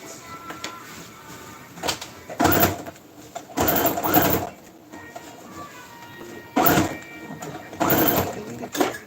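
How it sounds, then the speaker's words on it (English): A sewing machine stitches fabric for a giant squid project in several separate bursts of rapid mechanical whirring, close and fairly loud, with quieter pauses between runs. "I hate having to do extra sewing."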